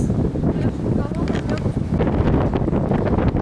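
Strong wind buffets the microphone outdoors near a tall lookout tower in Lithuania, a loud continuous rumbling roar with gusty swells throughout.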